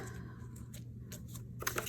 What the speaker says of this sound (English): And then I just take my scissors and snip that off.